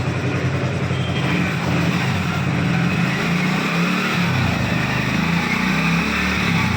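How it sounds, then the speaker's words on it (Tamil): A vehicle engine runs steadily in second gear during a warm-up, a continuous loud mechanical drone with a low rumble that holds throughout without pauses or talk. "இப்போ 2 கீர் போட்டு வண்டி ஓடிட்டுருக்கு"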